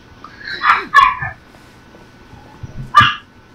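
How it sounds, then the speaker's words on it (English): Dogs bark in the Night in the Woods video game, two quick barks followed by a third after a pause, moderately loud over a quiet background. "Cue my dogs barking."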